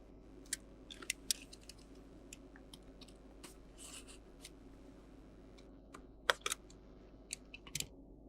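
Scissors snip through a charger's plastic packaging in a quiet room. Sharp, irregular crisp cuts and crinkles come close up, with a brief pause before a final louder cluster.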